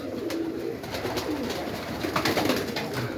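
Pigeons coo softly in low, throaty calls, several overlapping murmurs against a light outdoor background with occasional faint flutters.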